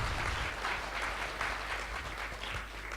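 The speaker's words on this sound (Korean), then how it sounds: "우리 세 분의 선배님에게 한번 뜨겁게 박수 한번 해 주십시오" An audience at a conference of Korean missionaries in Indochina, held in Thailand, applauds steadily: a thick wash of many hands clapping at moderate volume over a low room hum.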